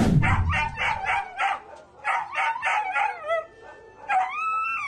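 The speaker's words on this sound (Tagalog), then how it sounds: "Isang aso ang pinagpapalo ng isang lalaking nag-amok sa Maynila" A dog in Punta Santa Ana, Manila howls and yelps in distress after being beaten, a series of close, loud wavering cries in repeated bursts, ending in a long rising howl.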